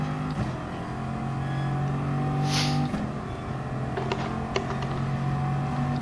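Bugatti supercar engine in a racing video game, a steady droning hum with shifting pitch as it holds speed, sustained throughout with a few faint clicks and no speech.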